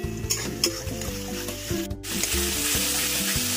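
Four spoonfuls of spice paste fry in a pan for an egg curry, with a close, even sizzle and a few sharp scrapes and taps from a spoon near the start, and no talk.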